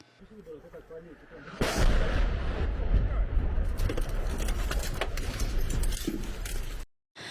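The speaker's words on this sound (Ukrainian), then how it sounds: "Бұның үшін ава куветлері ве топ мермелері қоланыла." Artillery shelling in the fighting around Bakhmut: heavy, sustained booming and rumbling bursts that start abruptly and roll on for several seconds, close and loud, with a voice faintly mixed in before cutting out.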